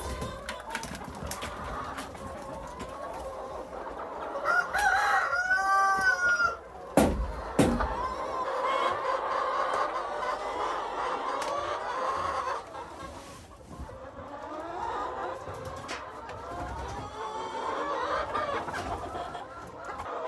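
Chickens cluck steadily in a barn in extreme cold with a rooster crowing once partway through, light rustling in between.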